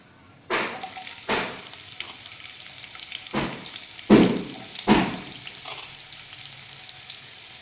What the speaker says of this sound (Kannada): ಇವಾಗ ಬಾಣಲೆಯಲ್ಲಿ ನಾನು ಮೊದಲು ಈರುಳ್ಳಿನ ಹಾಕ್ತಾಯಿದ್ದೀನಿ